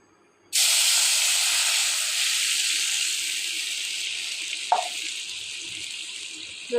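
Water poured onto ground mustard paste makes a loud, steady hissing gush that starts suddenly and runs for several seconds, tapering slightly, with a brief clunk near the end.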